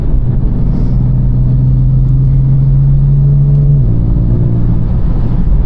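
BMW M4 pulls steadily in seventh gear on the road, a loud, close, continuous engine drone holding one rising note for several seconds before easing slightly lower, heard from inside the car with no talk.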